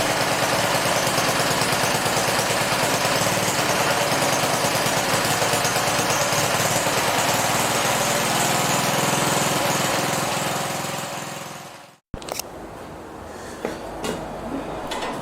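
A 1960s Hayter Hayterette lawn mower engine runs loudly and steadily at close range, then sputters out and stops, leaving faint clicks and handling noises.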